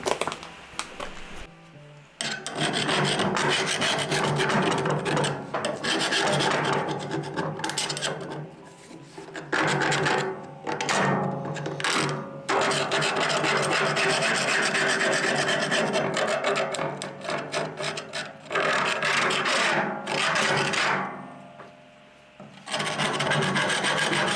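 A wire brush scrubs the rope-seal groove on a homestead woodstove. Close, loud, raspy strokes come in long continuous runs, broken by a few short pauses.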